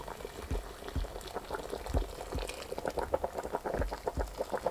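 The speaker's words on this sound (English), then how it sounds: "I'm just gonna add the water." Water bubbles and gurgles as it is poured into a glass jar for cooking pepperpot, with soft splashing pops and a low rumble, close by and fairly quiet.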